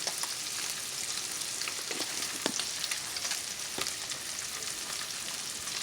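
Fish sautés in a hot pan as part of a fried and blackened fish dinner, giving a continuous close sizzle with occasional crackles and pops and no talking.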